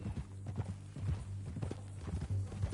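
Horse hooves clip-clop at a steady walking rhythm in the Red Dead Redemption 2 video game, quiet repeated thuds with a low rumbling tone beneath.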